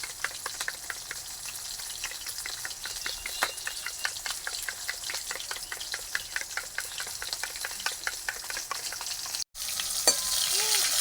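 Pieces of katla fish fry in hot oil with a steady, crackling sizzle and quick pops, loud and close, before a brief clatter near the end; no one speaks.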